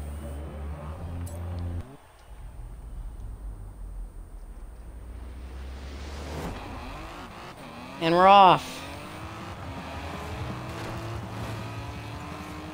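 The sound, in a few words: 1969 Toyota 2000GT engine in Forza Horizon 4 video game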